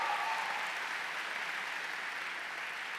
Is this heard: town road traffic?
no